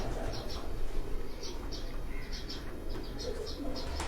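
Pigeons of a prized breed coo softly in a coop, with repeated short chirps and murmuring calls at a moderate distance over a constant low background hum.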